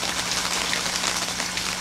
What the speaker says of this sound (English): I'm going to go enjoy this rain.